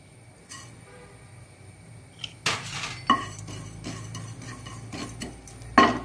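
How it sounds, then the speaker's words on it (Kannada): Sesame seeds roasting in a pan while cooking modaka and panchakajjaya, heard as sparse clinks and scraping taps of a utensil against the pan over a faint background hiss, with a few sharper knocks. "ಇನ್ನು ಅದರಲ್ಲೇ ಈ ಸ್ವಲ್ಪ ಎಳ್ಳನ್ನು ಹುರಿದುಕೊಳ್ಳೋಣ."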